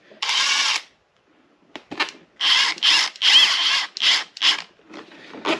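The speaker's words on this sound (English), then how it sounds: "The drill sometimes has a little too much torque and it wants to spin it around." A power drill drives screws into wood in a series of short whirring bursts, one long run followed by a pause and then several quick pulses, close and fairly loud.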